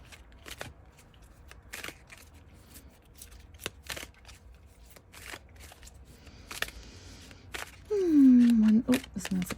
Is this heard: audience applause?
no